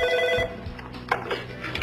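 A telephone bell rings briefly at the start, a short burst of tone that quickly fades into muffled room noise and faint background sound.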